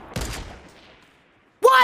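Gunfire in a video game: a quick burst of shots that rings out and decays, followed by another sharp loud burst at the end.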